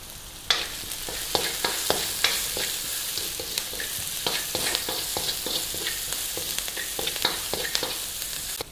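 Sliced onions sautéing with salt in a pan, a continuous close sizzle with frequent quick scraping and tapping of a stirring spoon, no voices.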